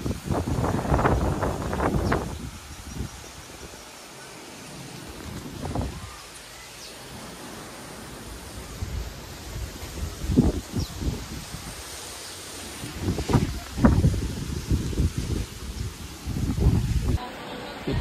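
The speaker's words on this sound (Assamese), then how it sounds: "ধুমুহা আহিব, ধুমুহা আহে চাওক।" Gusts of wind from an approaching storm swell and fade in uneven waves, rustling close to the microphone with quieter lulls between them.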